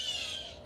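A single harsh bird call, crow-like and fairly close, lasting under a second.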